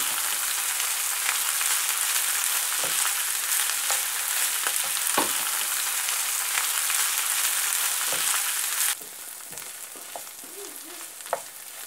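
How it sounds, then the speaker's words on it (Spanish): Four garlic cloves and two chopped onions fry in a pan of oil for a Moroccan dish, a steady close sizzle with scattered pops and light scraping as the pieces are stirred; the hiss drops quieter partway through. "Añadimos 4 dientes de ajo. Después echamos 2 cebollas que hemos cortado"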